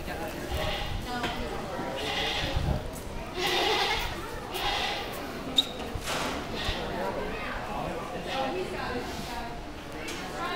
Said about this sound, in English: There goes a goat way back there.